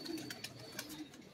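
A special breed pigeon coos in a low, steady murmur close by, with a few short sharper sounds breaking through at intervals.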